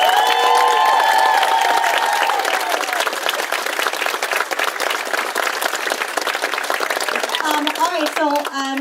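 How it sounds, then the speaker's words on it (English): A large audience applauds student performers at the Grunch at Hawes 2019, dense sustained clapping and some cheering filling the room, with a few voices and a brief tonal sound near the start and end. "let's give them one more big round of applause"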